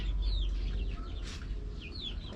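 Chickens cluck and chirp in a steady stream in a coop, several birds close by over a low rumbling background.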